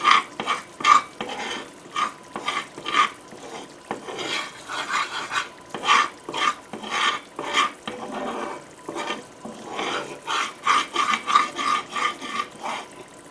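A spoon scrapes and stirs roux through oil in a pan for Southern tomato gravy, in steady rhythmic strokes with soft sizzling between them, close up and with no talking.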